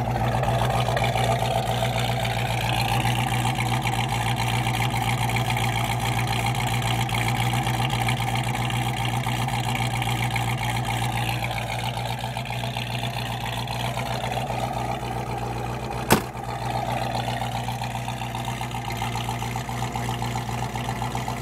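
A 1967 Shelby Mustang V8 idles steadily, its solid lifters clattering in a fast, even ticking over a low engine hum, with one sharp click partway through.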